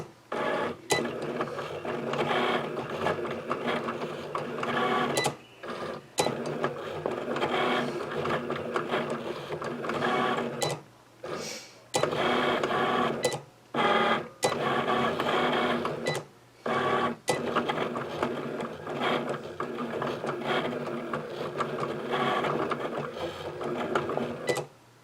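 An electronic cutting machine cuts a stencil strip for an Easter sign, its motorized carriage whirring in repeated busy passes broken by brief pauses and clicks, close by.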